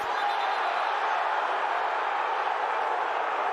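Crowd noise fills a football stadium at an XFL game between the Seattle Sea Dragons and St. Louis BattleHawks, a steady distant roar of reaction holding level throughout without distinct cheers or claps.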